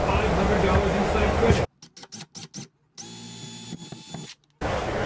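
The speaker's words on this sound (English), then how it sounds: "I'm using 1/8 drill bit to get a pile hole in here" A power drill fitted with a 1/8 inch bit bores a pilot hole into a shower subfloor, running in several short bursts followed by a longer steady whir, loud and close, between stretches of other noise.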